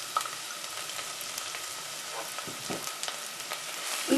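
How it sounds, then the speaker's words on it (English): Chopped onions hitting hot rapeseed oil in a saucepan, a steady bright sizzle with crackling pops and occasional stirring, close and continuous with no voices. "Heat it until it's quite hot, and then add the onions"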